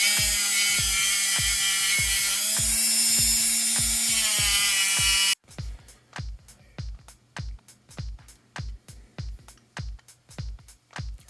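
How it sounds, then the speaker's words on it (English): A Dremel grinds down the diameter of a DIY airsoft lens protector, a loud high-pitched whine for several seconds, then stopping to leave a steady run of rhythmic thumping knocks. "now I'm just going to use a Dremel and freehand to reduce the diameter."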